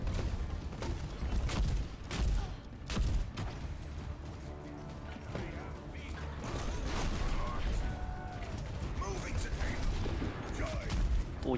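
Dense, continuous gunfire and explosions in the Overwatch video game, a loud, layered barrage of rapid shots and impacts over nearly twelve seconds, with players talking over the action.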